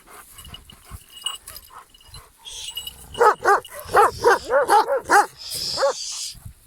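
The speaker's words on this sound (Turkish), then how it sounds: "köpeklerle yürümesi daha zor değil mi Çapo?" Dogs out on a walk over rough ground whimper and then break into a rapid run of close, loud, high-pitched barks and yips, with soft shuffling before.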